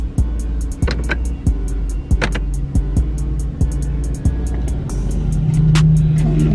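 A car being driven in the dark, with a steady low road and engine rumble throughout and a series of sharp periodic knocks or clicks over it, close and fairly loud.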